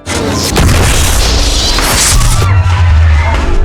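A loud, rumbling blast of electrical transformers with crashing debris fills the clip, heavy low-end booming sustained for a few seconds.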